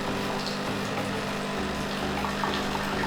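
A beverage machine in an apartment dispenses water into a cup, giving a steady pumping hum and a continuous trickle of liquid, close and moderately loud, with the low drone shifting partway through.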